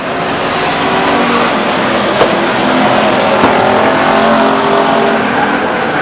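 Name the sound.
race cars on a speedway track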